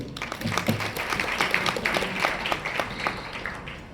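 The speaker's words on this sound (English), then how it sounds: "a round of applause for all of you" Guests at a FICCI FLO Chennai World Saree Day event give a round of applause, several seconds of scattered clapping from a modest crowd with uneven, pulsing claps at moderate volume; a voice murmurs faintly near the start.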